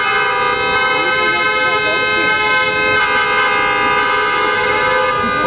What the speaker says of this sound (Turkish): Bakın kornalar çalıyor.